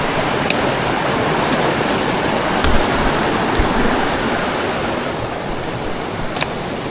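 Creek water rushes steadily across a hiking trail near cave entrances, a loud, continuous broadband wash that fills the whole stretch with no talk over it.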